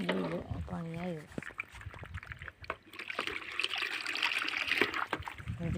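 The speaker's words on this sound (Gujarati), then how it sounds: "પાણી આવ્યું." Water gushes from a motor pump into a bucket as a steady splashing trickle, close by and continuous, while people talk over it.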